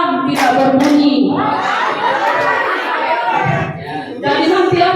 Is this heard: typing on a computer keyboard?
no